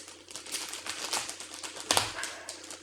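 Sealed packaging around an HP Elite Dragonfly laptop is cut open close up: scratchy rasping and crinkling plastic in uneven strokes, with a sharper tearing scrape near the end.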